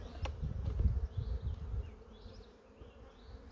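Bees hum at an open hive in a low, steady, near buzz with a few higher whines of individual bees passing close.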